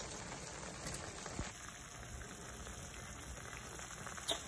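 A pot of noodles, eggs and sausage boils steadily, a dense continuous bubbling and hissing with a few small pops, close and fairly quiet throughout.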